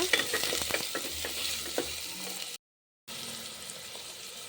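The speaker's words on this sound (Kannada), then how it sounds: "ಬೆಳ್ಳುಳ್ಳಿ ಹಾಕ್ತಾ ಇದ್ದೀನಿ ಚೆನ್ನಾಗಿ ಫ್ರೈ ಮಾಡ್ಕೊಳ್ಳೋಣ" Garlic sizzles in hot oil in a pan while being stirred, with crackling and scraping strokes. The sound cuts to silence for about half a second, then the frying resumes more quietly.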